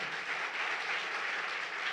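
Applause from a church congregation, a steady wash of many hands clapping at moderate distance, fairly quiet and continuous without pause.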